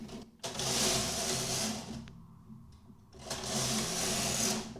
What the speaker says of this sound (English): now when I'm going to knit the next row, all the needles will knit